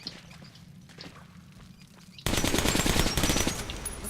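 Gunfire in Metro: Last Light starts as quiet scattered steps and noises, then breaks into loud, rapid automatic fire that continues for about two seconds.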